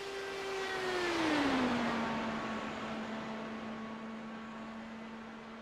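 An IndyCar engine during pole-day qualifying for the Open-Wheels 500 drops in pitch as it pulls away, a steady high whine fading with distance over a broad wash of noise.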